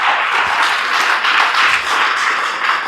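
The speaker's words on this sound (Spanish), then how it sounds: "Así que denle un aplauso a los jóvenes," A church congregation applauds the young people of the congregation, a steady, dense wash of clapping from many hands that holds at even strength for about three seconds with no speech over it.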